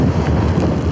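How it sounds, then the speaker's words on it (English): Strong wind buffets the microphone on an exposed, cloudy Lake District fell summit above Coniston during drizzly weather, a loud continuous low rumble with gusty flutter and no voices. "Pretty windy as well."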